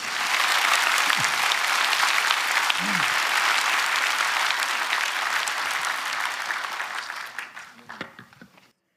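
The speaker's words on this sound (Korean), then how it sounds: "박수 치려면 확실히 치시죠" A church congregation applauds at an ordination ceremony for elders and deacons: steady, dense clapping from a full room that holds for about seven seconds, then thins and fades out, with a few faint voices underneath.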